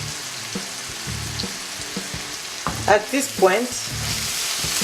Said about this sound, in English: you need to let it fry so that the water, all the water in the vegetables can be evaporated